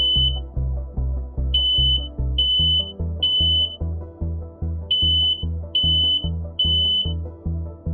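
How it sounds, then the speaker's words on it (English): A home smoke detector sounds its shrill, piercing beeps in irregular bursts over a loud, pulsing low rhythmic background, close and continuous throughout. "Chief Wilson, smoke detectors are really important to have in the home."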